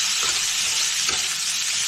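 Papaya pieces frying in a pan with fried potato, a loud close steady sizzle broken by rhythmic scrapes of a spatula stirring.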